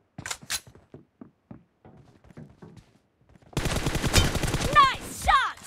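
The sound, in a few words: gunfire in the video game PUBG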